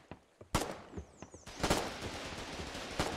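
Gunfire in the war game Foxhole: a few isolated shots, then a dense burst of rapid overlapping rifle and machine-gun fire with sharp cracks, moderately loud, no speech.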